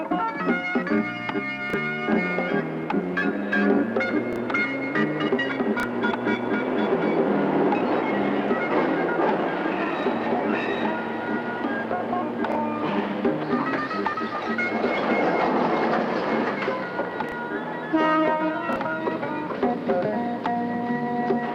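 Sydney suburban train rolling along the rails, a steady continuous rumble with rattling and clattering layers that swell and ease over about twenty seconds, fairly close, with no voices.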